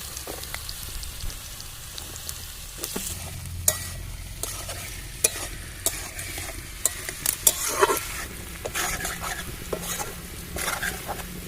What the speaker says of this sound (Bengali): আলু পেঁয়াজ আমি সুন্দর করে ভেজে নিয়েছি